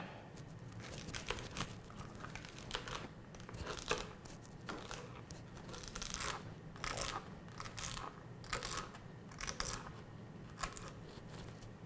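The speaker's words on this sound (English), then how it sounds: "My goal here is to chop the celery into the same size pieces as I did with the onion" A knife chopping celery on a cutting board, steady fast crunchy cuts repeating close up, quiet overall with no talk.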